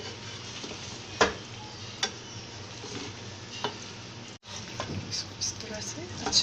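Chicken chow mein noodles and ingredients get tossed and stirred in a hot pan, with a continuous sizzle broken by sharp metal clacks of the utensil against the pan, while someone talks over it.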